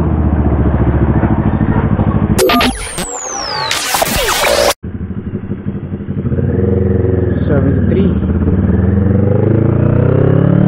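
A Kawasaki NK650 motorcycle engine runs at a steady, even idle close by, with a brief burst of metallic clatter and revving midway before the smooth drone returns.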